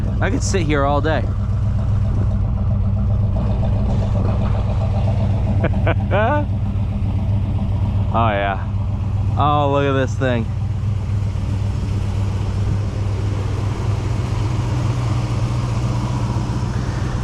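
A 1978 GMC Sierra Classic pickup idles through dual exhausts, a steady low rumble running the whole time while people talk and exclaim over it.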